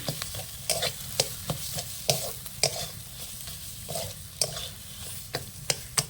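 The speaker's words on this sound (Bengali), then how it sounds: "দিয়ে ভালো করে মশলার সাথে মিশিয়ে নেব" Bottle gourd leaves are stirred with spices in a frying pan. A utensil scrapes the pan in steady, repeated strokes about every half second over a continuous close sizzle.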